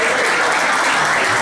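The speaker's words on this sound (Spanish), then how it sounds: "Fuerte el aplauso para." Loud, dense audience applause for a guitarist at a live music show, a steady wash of many hands clapping at once with no gaps and no voices heard over it.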